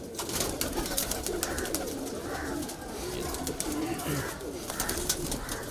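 Kalpare high-flyer pigeons in a loft in Patna city coo in repeated soft, throaty calls over steady rustling and clicks, fairly close, with a voice talking over them at times.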